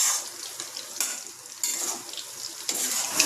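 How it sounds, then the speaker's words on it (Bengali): Chicken pieces frying in hot oil in a home kitchen pan, a steady close sizzle with a few sharper crackling bursts and light stirring, no voices. "এদিকে থার্ড ব্যাচ আমার চিকেন ভাজা হচ্ছে"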